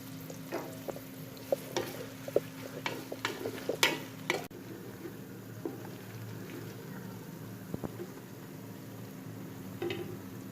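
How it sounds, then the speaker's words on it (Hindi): Onions sizzle steadily in a hot pan for mutton kunna while a utensil scrapes and taps against it, with sharper clatters early on and a softer crackle afterward. "तो आइए पहले प्याज को फ्राई करते हैं"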